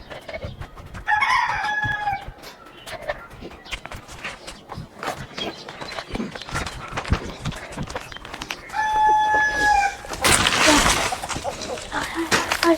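A large chicken clucks and crows in repeated bursts, loud and close, with footsteps and rustling between the calls and someone talking over parts of it.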